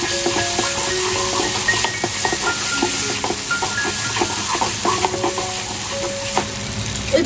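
Prawn masala with a yoghurt mixture being stirred and fried in a pan, a steady loud sizzle and hiss under repeated scraping strokes of a spoon, close and continuous without talk.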